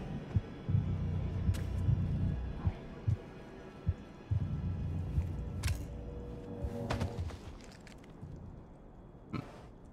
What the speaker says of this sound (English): Heartbeat went down.